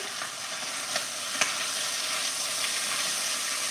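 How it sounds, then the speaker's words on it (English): Italian sausage sizzling in a pan while being stirred for pumpkin tortellini soup, a steady moderate frying hiss with a few soft scrapes and taps of the utensil. "let's get our sausage a little stir here"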